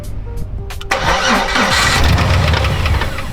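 A truck engine with a motor fault cranks, then catches and runs loud and close with a rough, steady roar, a faint tapping beneath the noise.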